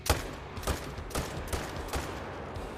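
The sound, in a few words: gunfire emptying a magazine in video game Call of the Wild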